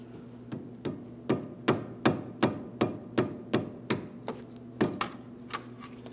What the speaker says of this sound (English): Now we'll carefully tap on the steering shaft.